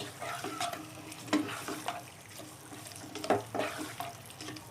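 A spoon stirs a turnip (shaljam) curry in a pot after sugar goes in, with wet scraping and thick sloshing plus faint sizzling, in intermittent strokes at close range and no talking.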